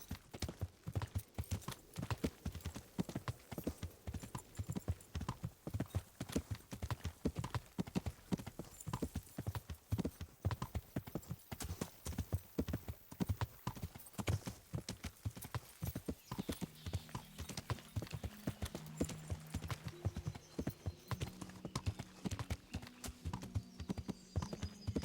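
Steady clip-clop of horse hooves trotting on hard ground in the video game Kingdom Come: Deliverance, a continuous rhythmic patter with a low droning background joining toward the end.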